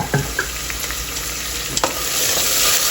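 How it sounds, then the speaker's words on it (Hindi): Chopped onions frying in about half a cup of hot oil, a loud, steady, close sizzle with a few light stirring clicks over it. "इसको हम थोड़ा सा ब्राउन कर लेंगे प्याज़ों को"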